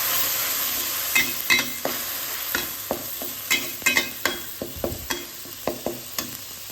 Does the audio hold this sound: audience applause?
no